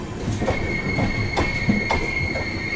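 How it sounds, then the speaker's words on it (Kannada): A freight goods train rolls past on an Indian railway line, its wagons giving a steady, close rumble with repeated wheel clatter and a sustained high metallic squeal throughout. "ನೋಡಿ ಅಲ್ಲದು ಟ್ರೈನ್ ಹೋಗ್ತಿದೆ ನೋಡಿ, ಸಾರಿ ಫ್ರೈಟ್ ಹೋಗ್ತಿದೆ ನೋಡಿ, ಗುಡ್ಸ್ ಟ್ರೈನು"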